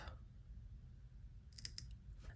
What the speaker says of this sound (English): I'm going to get my cutter pretty close. Go ahead and snip that off.